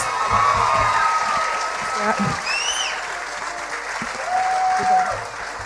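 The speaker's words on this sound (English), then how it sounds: "Let's give these Taiwanese ambassadors another round of applause." A crowd at a Taiwanese and Saint Lucian cultural evening gives steady, dense applause with a few whoops, holding level throughout, while a voice speaks faintly over the clapping.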